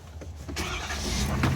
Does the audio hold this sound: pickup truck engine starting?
yes